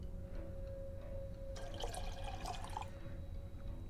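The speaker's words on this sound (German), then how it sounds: "dann müssen wir hier den Fotoentwickler reinpacken" Photo developer liquid poured into a darkroom tray in Black Mirror 2, a soft splashing pour starting midway and lasting about a second and a half over a quiet low hum, with no speech.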